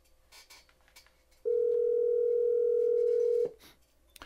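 A steady ringing tone sounds over the call line through Apple CarPlay on a Pioneer AVH-NEX in-dash car receiver, one continuous two-second burst that rises abruptly from quiet cabin background and then cuts off.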